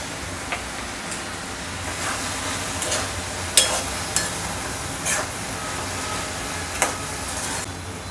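Ridge gourd sautéing in a hot pan with salt being added, a close, steady sizzle broken by scraping stirs and a few sharp clinks of a spatula against the pan; no voices.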